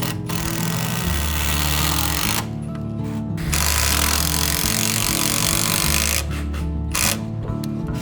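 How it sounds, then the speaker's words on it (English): A power driver sinks long screws into a wooden rafter during house framing, its loud motor whirring steadily in sustained bursts with short pauses between screws. "We screw them while adjusting the post."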